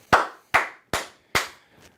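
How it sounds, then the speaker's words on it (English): A single person claps four sharp, loud hand claps at a slow, even pace, followed by a fainter fifth clap, with nothing else audible around them. "I'm going to clap it up for them"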